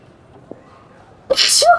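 A single sharp sneeze bursts out after a stretch of near silence, loud and close, ending with a brief voiced tail as a character in Beyond: Two Souls sneezes.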